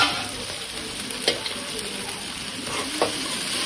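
A broad bean and tomato curry sizzles softly in a pan, with a few scraping stirs of a spoon cutting through the steady, close bubbling and frying.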